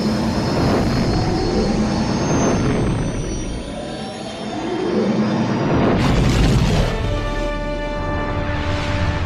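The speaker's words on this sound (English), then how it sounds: "We are ready to make the jump to hyperspace." Starfighters of a squadron roar and whoosh as they jump to hyperspace in the LEGO Star Wars video game, a loud sustained engine rush with a sharp swelling boom and ringing tones near the end.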